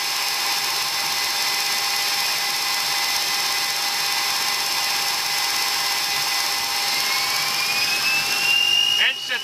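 Boeing E-3 Sentry jet engines spooling up to takeoff power inside the cockpit, a loud continuous whine and roar with a rising tone near the end, crew voices in the background.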